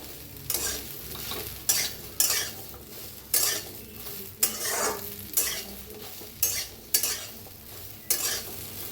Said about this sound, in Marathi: पहिलं भेंडीला आपण छान भाजून घेऊया। करपूस तर चांगली गॅसवर तेज करून भाजून घेऊया भेंडी।